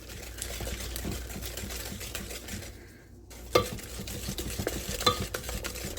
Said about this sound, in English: So get that all whisked up well.